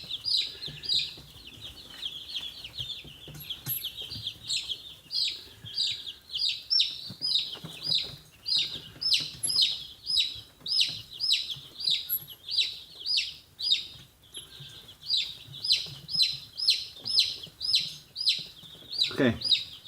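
A rooster with a pasty butt is washed with Dawn dish soap, clucking in a steady string of short, repeated calls close by, with brief pauses and faint handling noise underneath.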